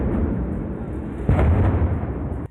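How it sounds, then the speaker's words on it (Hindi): Gas cylinders explode inside a burning warehouse, a loud rumbling roar with a sharp, heavy blast near the middle that stays loud until it cuts off at the end. "गोदाम के अंदर एक के बाद एक कई जबरदस्त धमाके हुए"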